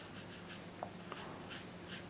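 A pencil drawing on paper during an art lesson, soft rhythmic scratchy strokes repeating quietly at close range, with no talking over it.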